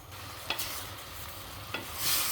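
Mixed vegetables stirred while sautéing in a pan give a steady, soft sizzle with occasional sharp clinks of a utensil against the pan. Sounds close, with no talking.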